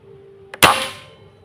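A single air rifle shot fired during an accuracy test, before and after crowning the barrel: one sharp, loud crack with a quick metallic ring, preceded by a faint click, then a short fading tail.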